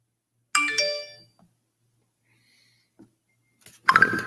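A phone ringtone plays as a short melodic chime of stacked bright tones, then stops, followed by silence and a brief louder burst near the end; nobody speaks.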